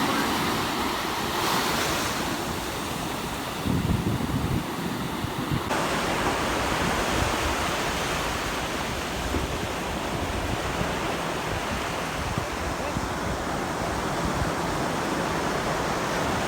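Sea waves at a Kerala beach resort, a continuous loud surf wash with wind roar, close and steady without a break, no voices.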